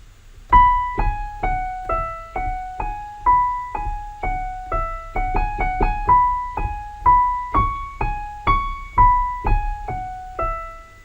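A simple melody of clear, high-pitched notes, each plucked and decaying, plays alone at a steady moderate pace.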